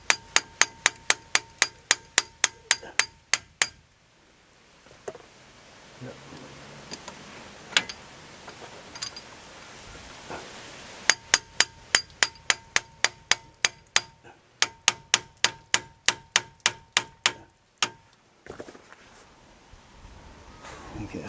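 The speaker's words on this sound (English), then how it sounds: "Hammer it in." A hammer drives a lower control arm bushing into place on a Hyundai i20 Mk1, striking in sharp, rapid bursts of evenly spaced metallic blows, with quiet pauses and a few single knocks between the runs.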